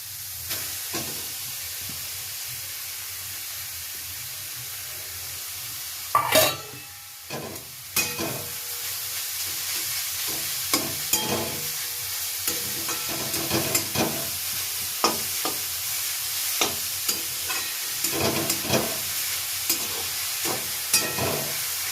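Mixed vegetables with beetroot stirred and frying in a pan for Bengali vegetable chop, a steady close sizzle with repeated scraping clicks of the spoon against the pan, no talking.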